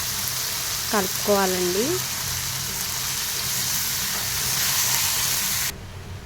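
Chicken pieces sizzling in hot oil in a pan for chicken curry, a loud steady frying hiss that lasts throughout, with a brief voice and some tonal chirps early on before the hiss cuts off abruptly at the end.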